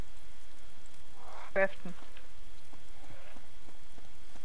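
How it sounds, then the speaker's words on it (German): Rain in a video game falls as a steady, faint hiss, and a brief spoken word cuts in partway through. "Mach jemand den Regen weg, ich friere."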